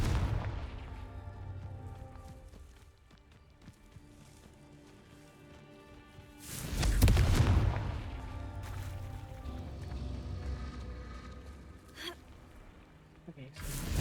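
A Confringo fire spell bursts in Hogwarts Legacy, a whooshing explosive boom swelling in the middle after a quiet stretch, with soft music underneath and a smaller hit near the end.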